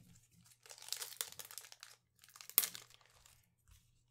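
Foil wrappers of Pokemon Jet Black Spirit booster packs are torn open and crinkled up close, bursts of crackly tearing with one sharp rip and faint rustles in between.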